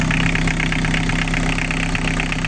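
A used Isuzu 1.7 litre diesel engine taken from an Opel Combo idles loudly and steadily nearby, a dense continuous rumble with a rhythmic diesel clatter and no pauses or voices.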